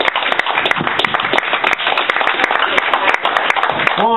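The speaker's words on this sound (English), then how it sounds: "Come on, everybody, one more time. Please clap it." A comedy club audience claps steadily for a stand-up comic, dense continuous applause filling the room with no talk over it.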